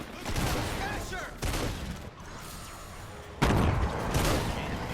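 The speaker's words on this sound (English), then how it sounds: "See if we can deal some damage to him with a shotgun." Shotgun fire in a multiplayer video game, with several heavy booming blasts and crackling bursts following one another amid loud game noise, and a voice briefly audible.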